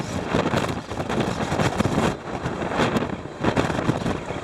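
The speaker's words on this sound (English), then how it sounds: "Man, it is windy, guys." Strong, steady wind roars and buffets across the microphone on the deck of the Disney Magic cruise ship, with rushing gusts rising and falling continuously and no talking.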